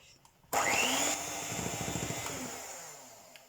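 An electric kitchen mixer mixing cake batter starts abruptly with a loud whir, then keeps running at a slightly lower, steady hum.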